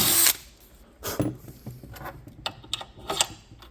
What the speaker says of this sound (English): You don't want to ream this hole out completely, just enough to do like an assembly fit.